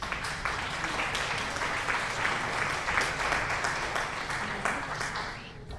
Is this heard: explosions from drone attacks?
no